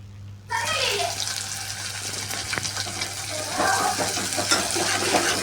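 Chilli pieces sizzle in hot oil in a home kitchen while a spoon stirs them, giving a steady, close hiss with scattered scraping clicks and a faint background hum.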